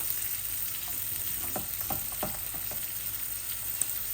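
Hilsa fish fry in a pan with a steady close sizzle, punctuated by a few soft scraping stirs and clinks partway through, with no voices.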